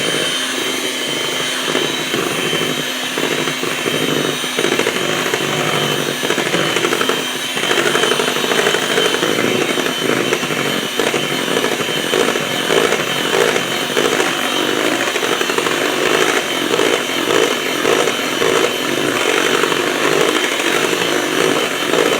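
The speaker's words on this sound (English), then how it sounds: "I'm going to take my dry ingredients and I'm going to blend my dry ingredients in." An electric mixer blends coconut flour into keto lemon bread batter, a steady loud motor whir running continuously with slight fluctuations throughout, with no talking.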